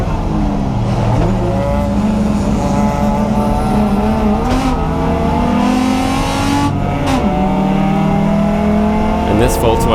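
A BMW E30 race car, #15 in a three-hour endurance race, screams around the track, its engine rising and falling through gear changes with brief shifts and loud, close, continuous revving.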